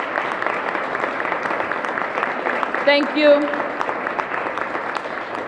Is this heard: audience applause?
yes